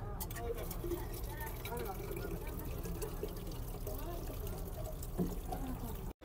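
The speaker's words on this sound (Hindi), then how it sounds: "हम लोग भी यहाँ से थोड़ा सा पानी भर लेते हैं" Water is drawn and filled from a well, a steady trickling pour that runs without a break under faint background noise and cuts off abruptly at the end.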